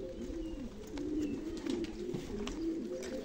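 Pigeons coo in a low, continuous warbling rhythm, several overlapping calls rolling along steadily with a few faint higher chirps above them and no talking.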